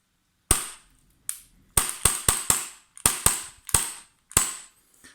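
An AAP-01 airsoft pistol fires about a dozen sharp snapping shots, each followed by a quick mechanical reset, in irregular bursts with short gaps.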